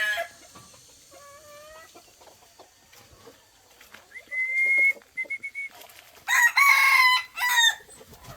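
Labuyo wild chickens and bantams let out of their coop in a rural yard. Quiet soft clucking is broken by several loud, near rooster crows that come in short bursts.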